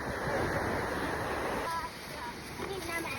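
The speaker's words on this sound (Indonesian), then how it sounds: "Batai Putih dikenal dengan pasir putih dan ombaknya yang tenang" Calm ocean waves wash in at Batee Puteh beach, a white-sand shore in Aceh Selatan, giving a steady soft rush of surf with a slight swell and wind, moderately near, while a voice talks over it.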